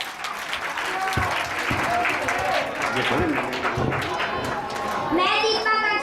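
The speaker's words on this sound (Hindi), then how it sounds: "सभी तालियों से उसका स्वागत कीजिए।" At a Republic Day school celebration the audience claps to welcome a young student, a brisk crowd of hand claps going on steadily while children's voices chatter underneath.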